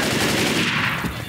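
Rapid automatic gunfire bursts loud and dense in the Left 4 Dead video game, a continuous rattling volley that fills the whole short moment.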